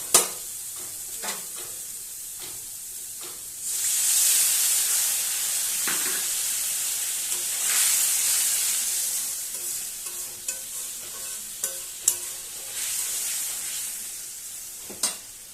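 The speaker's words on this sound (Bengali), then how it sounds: "তো এবার আমি একটু জল দিয়ে দিচ্ছি।" Water poured into a hot pan of spiced Bengali fish curry base, bursting into a loud hissing sizzle that swells and fades over several seconds, with scattered clicks and taps of utensils throughout.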